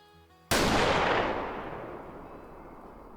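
A single Christensen Arms rifle shot in the hunting game Way of the Hunter cracks loud and sudden after a quiet moment, then rolls off in a long, slowly fading echo.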